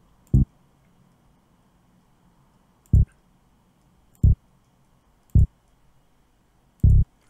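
A computer mouse is clicked while entering notes in Fruityloops 10, giving five sharp, isolated clicks at roughly one-second intervals against near silence.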